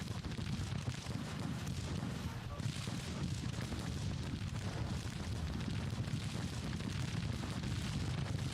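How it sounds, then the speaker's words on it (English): Brigades trade Civil War musket volleys in the Grand Tactician strategy game, a continuous crackling roar of gunfire and booms with overlapping rolling bursts under a dense battle din. "Nice volley by the 5th Brigade into Jackson's boys"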